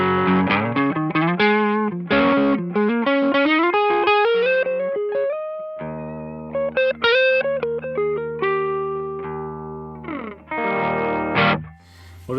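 Distorted electric guitar played on the neck pickup through a distortion pedal, with thick sustained chords and rising note runs, loud and close, alone with no talking.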